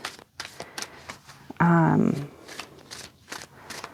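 An oracle card deck, the Twin Flame Ascension deck, riffles in one brief, loud burst of card shuffling lasting about half a second, with soft room noise and faint handling sounds before and after.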